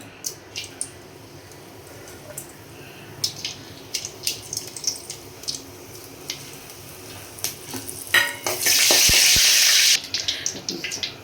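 Bay leaf, cinnamon, cloves and star anise fry in oil for a Tamil-style crab masala, with scattered crackles and pops that swell into a loud, dense sizzle near the end, no voices.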